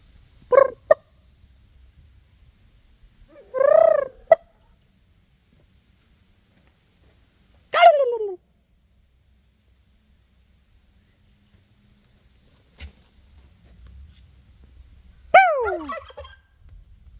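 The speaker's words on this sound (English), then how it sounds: "I knew I could get him to gobble." A turkey gobbles loudly and close by, about four separate rattling bursts spaced by quiet stretches, with a few short clicks between them.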